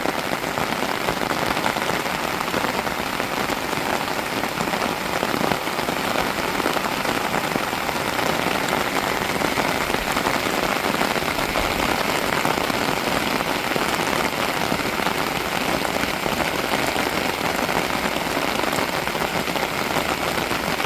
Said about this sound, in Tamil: மழையை பாருங்க அடிச்சு ஊத்துது